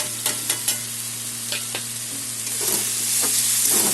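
Tomatoes sautéing in a pan with cumin, coriander, turmeric and Kashmiri chili powder, a close steady sizzle broken by a few sharp stirring scrapes and clinks.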